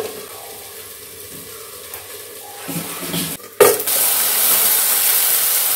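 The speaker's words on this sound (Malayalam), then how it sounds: "ഇപ്പോൾ നമ്മുടെ വെണ്ടയ്ക്ക ഒരുവിധം വഴറ്റി വന്നപ്പോഴത്തേക്കും" Okra sautéing in a pan for a Kerala-style vendakka thoran, with soft stirring scrapes that give way to a loud, steady sizzle after a sharp clatter, close and continuous with no talking.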